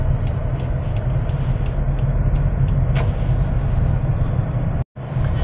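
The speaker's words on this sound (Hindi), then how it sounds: "तो चलिए ये देखिए यहाँ का ट्रैफिक एंड ऑल।" Road traffic on a city street in Gandhipuram, Coimbatore, India: a constant roar of engines and road noise heard from inside a moving vehicle, with a few faint horn-like tones and a brief dropout near the end.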